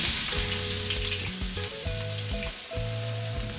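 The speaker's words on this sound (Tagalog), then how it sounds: "Mantika. Una kong ginigisa yung sibuyas." Chopped onion sautés in hot oil with a steady, close sizzle as the first step of a young jackfruit coconut stew, while a tonal melody plays alongside.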